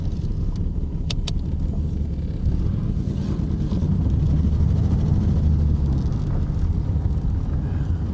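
A 1991 Mercury Cougar drives along with a steady, loud low engine and road rumble heard from inside the car, swelling slightly midway, with a few faint ticks and rattles.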